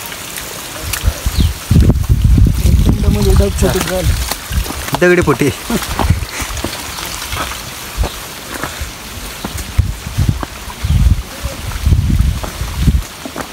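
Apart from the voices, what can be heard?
heavy rain at Rajgad Fort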